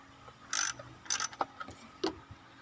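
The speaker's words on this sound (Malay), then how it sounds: "Jadi saya guna spanner aje lah." Spanner work on the water pump bolts of a Proton Wira engine: a few sharp metallic ratcheting clicks and clanks in separate bursts, close and moderately loud, with no talk.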